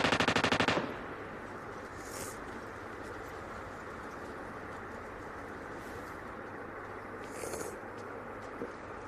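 An M249 machine gun fires in a video game as a fast rattling burst at the start, followed by faint distant gunfire and game ambience.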